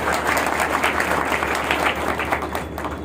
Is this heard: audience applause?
yes